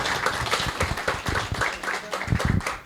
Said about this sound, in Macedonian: еден голем аплауз за Маријана, Стефан, Моника, Дамјан и Мето